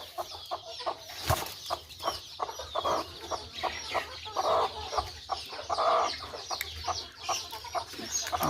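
A desi country hen clucks over her newly hatched chicks in a farm setting, giving close, repeated short clucks in an uneven rhythm with brief louder calls, and no talking.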